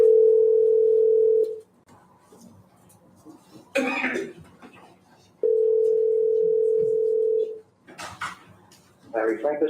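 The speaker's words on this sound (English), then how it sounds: "let me give him a call." A steady telephone dial tone sounds twice, with an office phone line held open to place a call from a West Palm Beach courtroom. Each tone lasts about a second and a half, separated by soft handling noises and brief quiet stretches.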